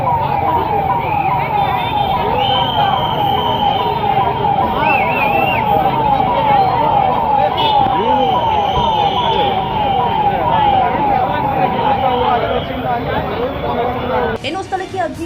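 Fire engine siren wailing at a bus stand fire in Haveri, where four shops burned, rising and falling steadily at close range and loud over crowd noise and traffic, with voices talking throughout.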